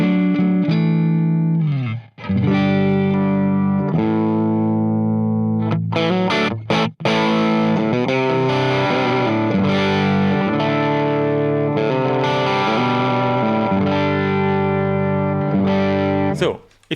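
Electric guitar through a Hughes & Kettner AmpMan with the gain raised and no boost plays loud, sustained distorted chords with brief pauses and a few sharp strums, sounding alone throughout.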